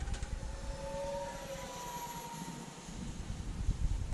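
An XFly Su-57 Felon RC jet with twin 40mm electric ducted fans passes overhead in flight, a whining, rising and falling fan tone riding over steady outdoor wind rumble at moderate distance.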